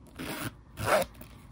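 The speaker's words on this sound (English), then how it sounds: "the zipper is still very, very smooth" Zipper on a Chanel caviar leather wallet with a plain leather pull tab is pulled in two smooth, close strokes, a soft rasping zip with a short pause between.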